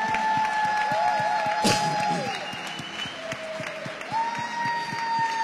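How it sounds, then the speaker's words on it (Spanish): Congregation applauding during a church crusade service, a sustained crowd clapping with some cheering and whoops, with musical tones sounding underneath. "Dale un fuerte aplauso para el Señor"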